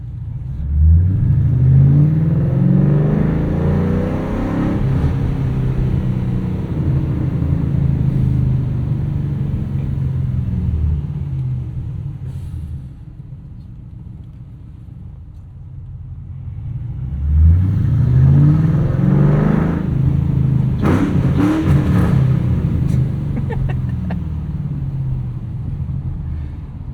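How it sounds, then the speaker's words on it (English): A 2007 Ford Mustang Shelby GT with a 5-speed manual, driven with the windows down, revs hard through the gears in two long loud surges, each rising and falling with a deep rumbling exhaust and a quieter cruise between them. "None of the new cars I drive sound like this."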